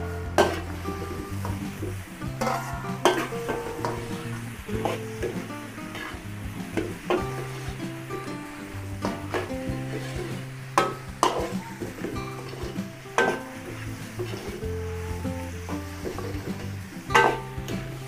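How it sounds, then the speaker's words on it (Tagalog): Beef offal sautéing in a pan for goto, with a soft continuous sizzle under repeated scraping and clinking of a utensil stirring against the metal, fairly quiet and close. "Tapos igisa po natin itong ating laman loob"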